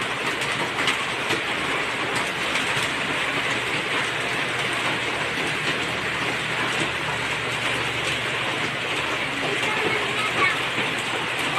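Sudden heavy rain pours outside a home on a dark, overcast morning, a steady, dense hiss that holds at the same loudness from start to finish without a break.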